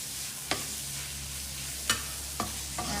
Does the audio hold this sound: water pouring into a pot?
no